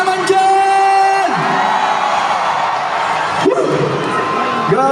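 A crowd of teachers at a National Teachers Day event shouts and cheers loudly and continuously, while a strong amplified voice yells over the din.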